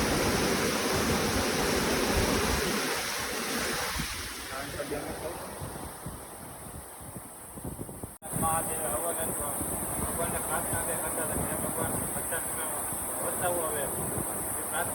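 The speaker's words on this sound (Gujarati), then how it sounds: "તમે અત્યારે જુઓ વરસાદ સારામાં સારો આવી ગયો છે." Heavy rain falls with rainwater rushing and flowing nearby, making a dense, steady roaring hiss that dips briefly and then resumes at full strength.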